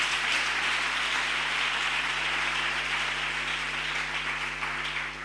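A church congregation applauds together during a worship service, a dense, steady wash of clapping that holds at an even level throughout with no voices above it.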